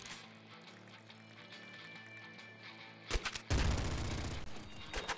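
Rapid gunfire from the super yo-yo gun in the Nuclear Throne Ultra Mod, a dense electronic game soundscape that swells into a loud burst of overlapping shots in the final two seconds.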